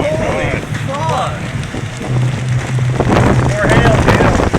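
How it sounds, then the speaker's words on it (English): Hail pelts the ground during a storm in Phoenix, Arizona, a dense, steady patter with gusts of wind across the microphone, while a man exclaims over it at close range. "More hail, dude."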